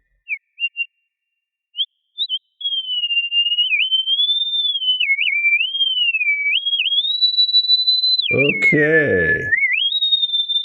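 Synthesized bird chirps from a free module in VCV Rack modular software: a few short pure-tone blips give way to a long, warbling, whistle-like glide that dips and rises, with a brief spoken word over it near the end.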